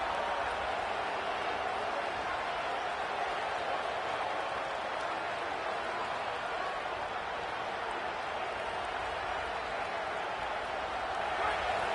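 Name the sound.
football stadium crowd getting loud on third down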